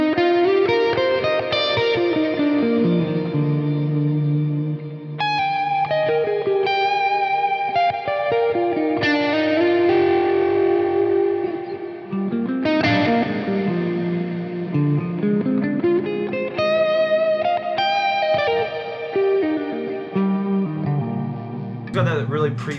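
Electric guitar through a Fractal FM3 with a lush ambient reverb patch, sustained chords and melodic lines blooming into long washy tails, continuous and fairly loud with no talking.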